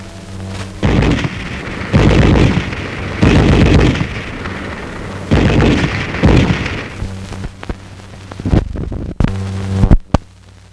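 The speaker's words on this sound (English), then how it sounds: "This is the standard German Army machine gun" A German Army MG-34 machine gun fires several loud bursts, each about a second long with short pauses between, ending in a few quick, sharp shots.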